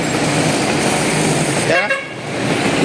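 A loud, sustained motorcycle horn blares continuously for nearly two seconds, then cuts off briefly before the noisy engine background swells again.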